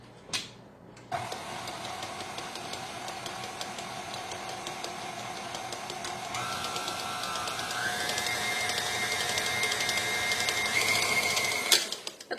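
An electric mixer beats flour into chocolate chip cookie dough, a steady motor whir that starts after a second, runs continuously with a rising pitch and strain for about eleven seconds, then cuts off, with no talking.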